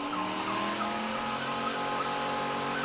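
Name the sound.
Ford Crown Victoria cars doing burnouts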